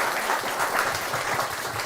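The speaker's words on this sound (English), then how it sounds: "give them a round of applause" An audience applauds steadily, a dense wash of many hands clapping at once, fairly loud and sustained throughout.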